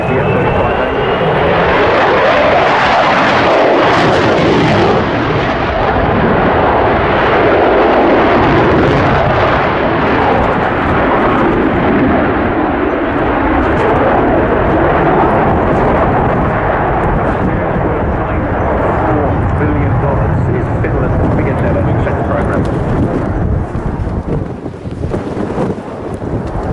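An F-35A fighter jet performs a flying display at the Royal International Air Tattoo at RAF Fairford, its engine a loud, sustained roar with wind buffeting the microphone throughout.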